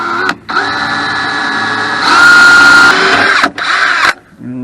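A cordless drill drives self-tapping screws while installing a hose carrier on a Rockwood travel trailer, giving several loud whirring bursts that rise in pitch under load, separated by brief pauses.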